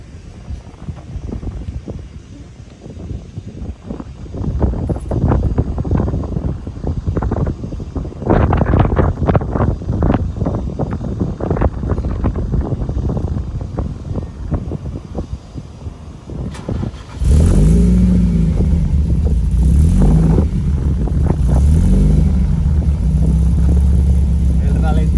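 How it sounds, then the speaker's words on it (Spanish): A VW Golf Cabrio with a G60 engine is started after a stretch of wind-buffeted rumbling and handling noise, then settles into a loud, steady idle with a throbbing low drone, heard close up. "Y voy a arrancar el coche."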